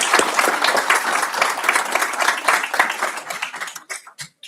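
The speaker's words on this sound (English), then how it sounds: "We can give all our retirees a round of applause." A school board meeting audience applauds its retirees with a full round of steady clapping that thins out to a few last scattered claps before falling quiet.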